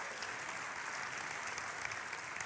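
Church congregation applauding together during a sermon, steady dense clapping filling the space, loud and continuous with no pauses.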